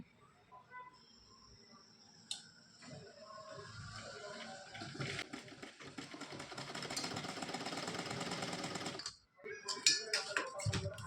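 A sewing machine runs steadily, stitching the centre line of a blouse dart, with a dense whirring rattle that cuts off briefly before stopping and starting again.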